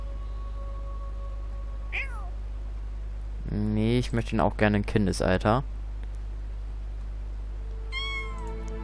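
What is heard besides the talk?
cat meowing in the video game The Sims 4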